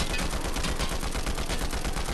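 Combat assault rifle fired in a video game, a loud, dense burst of rapid automatic shots running continuously and close, with no talk over it.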